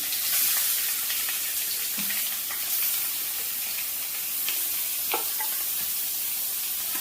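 Chicken frying in a pan with a bay leaf and cinnamon bark, giving a steady hiss with the scrape of stirring and brief clinks, no talk.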